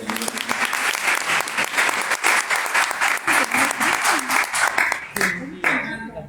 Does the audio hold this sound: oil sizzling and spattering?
no